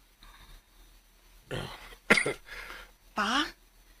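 Several harsh coughs and throat-clearing bursts sound close by, separated by quiet pauses, with a short stretch of voice between them.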